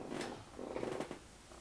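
A cat's soft, steady purr, heard faintly and alone for under two seconds, played back from a video.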